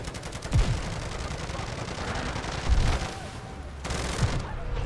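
Burst-fire gun in the MW3 Zombies video game, held down so the bursts run together into a steady rattle of gunfire with a few heavier impacts, loud and close throughout.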